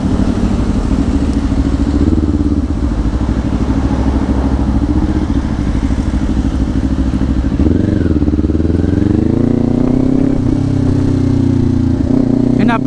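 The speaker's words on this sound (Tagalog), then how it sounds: "napakaganda pakinggan ng engine brake" Engine braking on a 2024 Kawasaki Ninja 500 SE motorcycle: a steady, close low engine drone that shifts pitch near the end as revs change, with a faint voice underneath.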